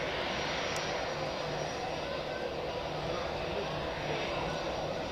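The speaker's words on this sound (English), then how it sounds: "we have a KLM Embraer 195 getting pushed out" A KLM Embraer 195 is pushed back at Zurich Airport, giving a dense, steady rumble of aircraft engines and ground noise with no clear change over the short stretch.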